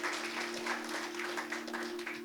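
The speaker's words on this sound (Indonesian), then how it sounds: "Tepuk tangan bagi Tuhan." A church congregation claps for God during a sermon on the compassion of Jesus, a steady wash of many hands clapping together, with a constant electrical hum underneath.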